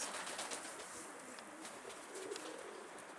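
A pigeon coos softly against a hissy outdoor background, its low calls faint and spread across the clip.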